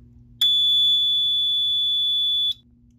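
A Fire-Lite MS-4424B fire alarm control panel sounds after a system reset, giving one steady high electronic beep lasting about two seconds over a low hum, then cutting off.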